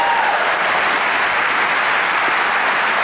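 Steady, close audience applause fills the room at a talk on memory, a dense unbroken wash of clapping at even loudness from start to finish.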